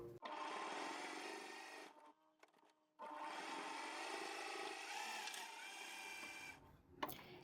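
A coverstitch machine runs a chain stitch in two steady mechanical bursts, a close rapid whir broken by a brief pause near the middle, with no talking.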